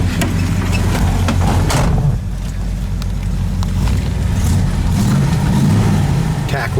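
A 1970 Oldsmobile 442 being driven, its engine a low, steady rumble with road and wind noise, heard from inside the car.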